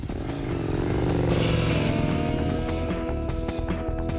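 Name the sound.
Aprilia RSV Mille motorcycle with custom exhaust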